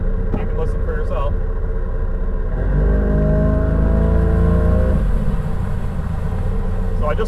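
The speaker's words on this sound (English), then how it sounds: "I'm going to put the camera inside here to reduce the wind noise so you can hear the motor running" Outboard motor of a 1988 Bayliner Trophy bass boat punched to full throttle, a deep rising roar that swells for a couple of seconds then eases back, heard close with someone speaking before and after.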